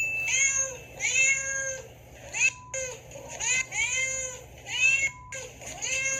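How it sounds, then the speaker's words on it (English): A pet cat meows repeatedly and loudly at close range, drawn-out wailing cries coming in a steady series over a low background hum. "I'm just going to ask my cat Wallace to take it from here"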